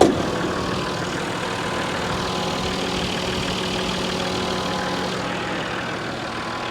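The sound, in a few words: car engine idling under open hood, not a V8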